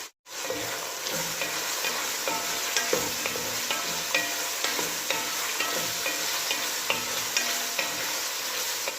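Onion sautéing in a pan for rice stick pancit, a continuous close sizzle with regular clinks and scrapes of stirring throughout, no voices.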